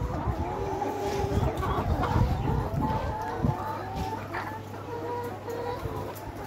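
Nourish layer hens cluck steadily in a chorus on a poultry farm, with occasional louder squawks over a constant low farmyard hum.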